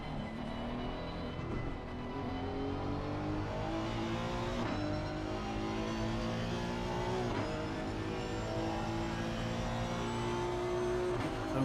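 Race car engines roar and shift pitch as several cars pass in a racing video game at a German circuit, a continuous dense drone with rising and falling tones and no talk.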